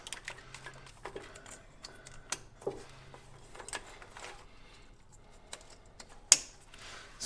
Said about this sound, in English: So you're just looking for that nice click. And we'll just go ahead and plug our connectors back in